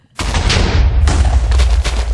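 Minecraft explosion going off: a sudden loud boom with a heavy low-end rumble, followed by a second blast about a second later, both sustained and rolling rather than sharp.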